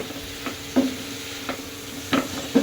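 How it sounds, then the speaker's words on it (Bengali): Plantain and potato sautéing in a pan, with steady sizzle and a handful of distinct scraping stir strokes at irregular intervals, close and moderately loud, no voices. "আমি কলা আলুটা কষাচ্ছি"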